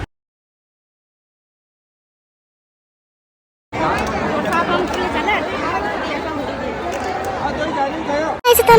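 Dense crowd chatter at a busy temple pilgrimage site near a holy kund, a steady wash of many overlapping voices that starts abruptly after a stretch of silence and carries on loud and close.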